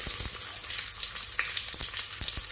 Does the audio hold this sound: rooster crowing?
no